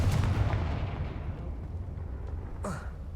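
A Confringo spell blast in Hogwarts Legacy lands as a booming explosion at the start and rumbles away into a long fading tail, with a sharp whoosh-like flare near the end.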